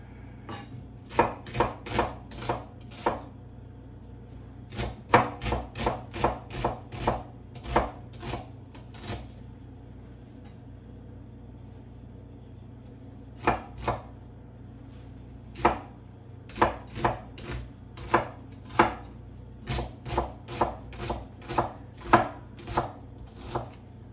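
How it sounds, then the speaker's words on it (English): A knife chops red onion on a board in quick, crisp knocks, clustered in bursts with short pauses, close and clear against a quiet room. "Red onion, I'm gonna chop it just a little bit more."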